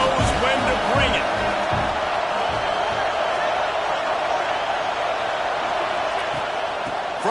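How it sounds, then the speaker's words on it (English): A stadium crowd in College Football 26 keeps up a steady, broad roar throughout, with a commentator talking over the noise. "This crowd knows when to bring it."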